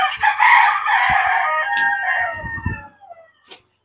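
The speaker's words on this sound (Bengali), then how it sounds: "এই যে ফার্মি মুরগির খামার আপনারা যে খামারটা দেখছেন" Broiler chickens in a poultry farm shed: loud, close, drawn-out crowing and clucking calls fill the first three seconds, then fade to a short final squawk.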